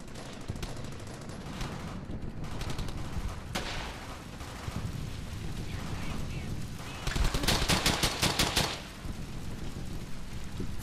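Gunfire in the war video game Brothers in Arms: Hell's Highway: dense, loud shots crackle throughout, including a rapid automatic burst near the end, over constant battle noise.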